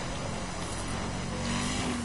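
Honda car engine in The Crew driving game drones steadily with a low rumble and slight rising pitch, continuous and fairly close, with no talking.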